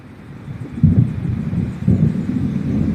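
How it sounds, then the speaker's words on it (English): Low thunder rolls from an approaching storm in the video game Alan Wake, with two deep rumbles swelling and fading over a steady windy background. "It seems there's a storm coming."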